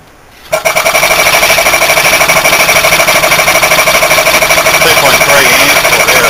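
A Maneurop MTZ100 refrigeration compressor starts with a sudden rise into a loud, steady mechanical hum and rapid pulsing rattle. It runs continuously close by, and a voice is faintly present underneath.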